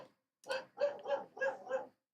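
A pet dog barks at coyotes outside, giving four or five loud, close barks in quick succession after a short pause.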